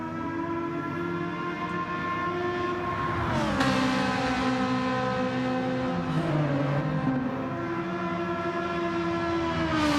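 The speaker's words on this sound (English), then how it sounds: "keeping it in 4th gear, revving it out. Yeah, both of these engines are screaming right now." Race car engines in a racing video game held in fourth gear and revved out during a qualifying session, a continuous loud high-pitched whine whose pitch dips and climbs as the cars shift and rev, with no talk.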